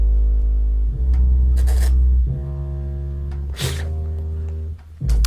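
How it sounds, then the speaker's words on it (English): A deep, heavy bass line plays a few sustained low notes over a hip-hop beat with crisp hi-hat and snare-like hits, loud and close with no voices. "comes the bass, which sounds like this"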